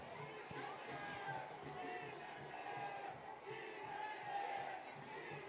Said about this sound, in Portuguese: A torcida pede Guilherme, Guilherme, Guilherme, o filho da casa.